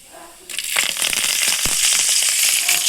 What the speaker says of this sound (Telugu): తాలింపు అంతా ఇట్లా చిటపటలు అన్నాక